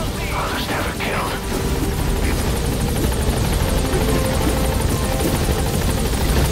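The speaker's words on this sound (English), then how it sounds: "I'll send the extraction chopper." Extraction helicopter arriving in Metal Gear Solid V: The Phantom Pain, a loud, steady rotor drone that fills the whole stretch with a constant throbbing roar, game sounds layered over it.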